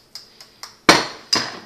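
Ripe avocado is mashed for avocado pasta, likely with a utensil in a bowl: three light taps are followed by two louder, heavier knocks with a clinking ring, close and with no talk.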